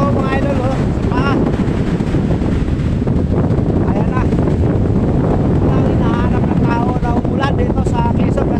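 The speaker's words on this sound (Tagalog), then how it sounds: "Ayan na, inaabot na tayo ng alon dito mga idol." Surf rolls up onto a beach shore in drizzle, a loud, continuous roar with heavy wind buffeting against the microphone while someone talks over it.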